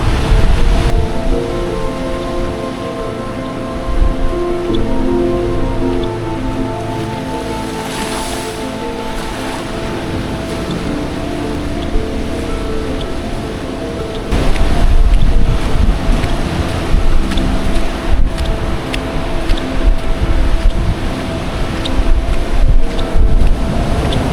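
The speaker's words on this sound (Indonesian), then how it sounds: "Oh, ombaknya gede banget." Big ocean waves roll in at Greweng beach near Yogyakarta as a steady, loud roar with wind buffeting the microphone, surging heavier in the second half.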